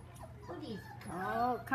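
Dogs whine and yip in a few short, rising cries over a steady low background hum, fairly quiet and close.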